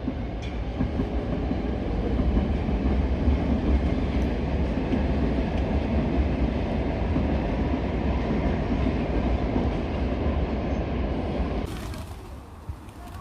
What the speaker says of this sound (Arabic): هاي القطار الثالث مرة.